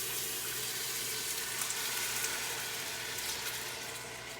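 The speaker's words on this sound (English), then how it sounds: "Pour your tomatoes in slowly." Canned tomatoes pour slowly into a pan on low heat with a continuous wet, splashing gush that fades slightly toward the end.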